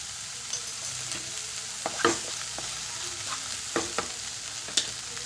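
Tomatoes with turmeric and chili powder sauté in a pan, a steady low sizzle broken by a handful of sharp spoon clicks and scrapes against the pan, close and moderately quiet.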